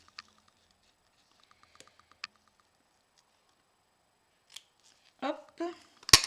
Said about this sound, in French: Hop, on va couper des petits bouts.